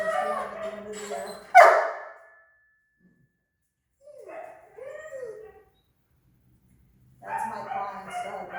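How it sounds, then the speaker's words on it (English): A big husky barks and whimpers indoors in a few close, loud bursts separated by silent gaps, and people speak in between. "That's my client's dog that you hear in there. That's Odin, he's a big husky"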